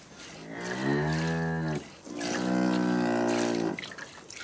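A dairy cow moos twice on a farm, two long, loud, close lows with a brief pause between, with faint running water in the background and no talk.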